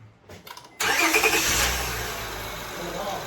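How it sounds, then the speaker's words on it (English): A Honda Accord, 2003–2007 era with a newly installed passenger-side motor mount, cranks and catches, then settles into a loud close idle with a brief rev, all in about three seconds. "Fire this bad boy up. Hit the nitrous a couple times."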